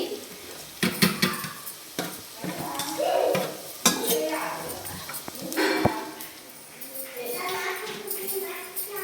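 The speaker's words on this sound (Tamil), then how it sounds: "ரெண்டு வெங்காயம் நல்லா வதங்கிருச்சு" Onions sauté in a pan while chicken biryani is being cooked, producing uneven bursts of sizzling and clattering stirs against the metal, with a voice speaking over it and a dog barking.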